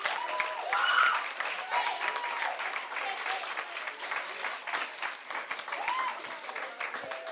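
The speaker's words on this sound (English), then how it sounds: "have your round of applause and give it up for our CUB debating champions" Sustained applause from an audience for the winners of a debating competition final, a dense steady patter of many hands heard from some distance, with faint crowd voices mixed in.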